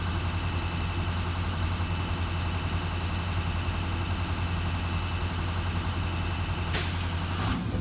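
A truck idling with its air brake system at maximum pressure, a steady loud engine drone that breaks into a sharp, bright hiss of released air near the end, close by and with no voices.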